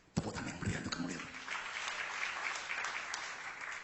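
Congregation applauding during a church sermon, a burst of clapping that begins sharply, then settles into a steady, moderately distant wash of hands.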